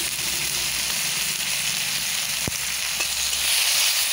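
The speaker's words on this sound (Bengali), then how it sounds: "একটু কষিয়ে নিচ্ছি" Chopped tomato with turmeric and salt sautés in oil, a steady close hiss of frying with a single sharp tap of a utensil partway through and no one speaking.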